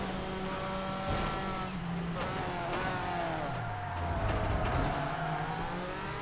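Car powersliding through a corner in ToCA Race Driver 3 on a Class B 4WD track challenge, engine whine sliding down in pitch then revving back up, steady and moderately loud with no talk.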